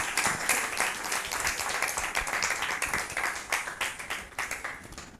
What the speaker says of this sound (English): And then big round of applause.